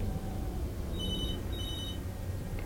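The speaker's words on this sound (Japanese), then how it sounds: "あ、電話鳴ってる。" A telephone rings inside the video game Beyond, sounding two short bursts of a bright electronic trill over a steady low background hum, with no voices.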